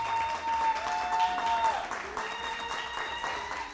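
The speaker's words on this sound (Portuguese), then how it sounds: "Plateia, aplausos, plateia! Aplausos para vocês mesmos." A studio audience breaks into steady applause, a dense wash of clapping that fills the whole moment with a host's voice calling over it.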